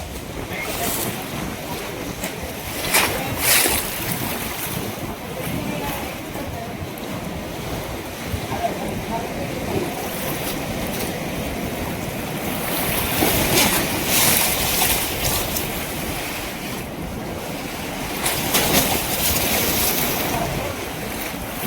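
Loud, steady rush of the flooded Vaitarna River roaring continuously, turbulent water with surging waves, gusty wind buffeting the microphone and no voices.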